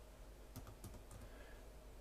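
Random characters typed on a computer keyboard, a short burst of several quick, light key clicks at close range in a quiet room.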